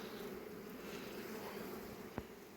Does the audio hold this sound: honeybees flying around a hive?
yes